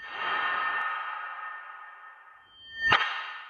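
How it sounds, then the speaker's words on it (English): A long, smeared synthetic swell, a reversed copy of a processed sound effect, builds and fades, ending in a sharp, bright reversed swoosh-like hit with a sonar-style ping. "I then duplicated that sound effect and reversed it"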